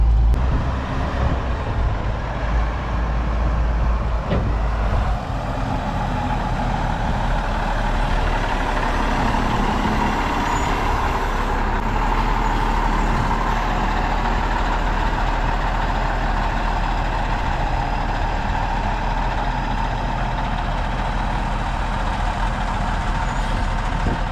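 A 30-foot military surplus wrecker truck idles and creeps through tight turns in a cramped parking lot, its heavy diesel engine rumbling loud and close throughout with a faint hiss partway.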